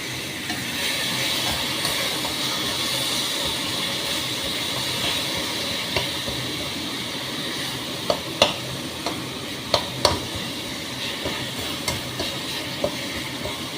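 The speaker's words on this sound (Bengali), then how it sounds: "এর সাথে কিন্তু কন্টিনিউয়াসলি আমি নেড়ে যাবো" Jaggery melting in a pan for amla chutney, a continuous bubbling hiss while a spoon stirs, with sharper scraping knocks against the pan growing more frequent toward the end.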